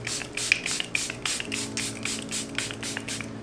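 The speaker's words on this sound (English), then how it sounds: "Airbrush Flawless Setting Spray" A fine mist of makeup setting spray hits a face in a string of short, quick hisses, about a dozen close puffs in a row, with a faint hum under them.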